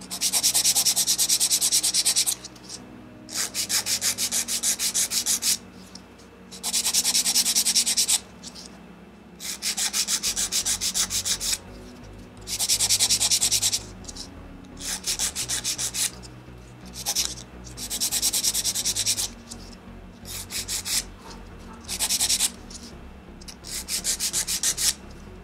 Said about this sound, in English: I basically keep filing both sides until they basically meet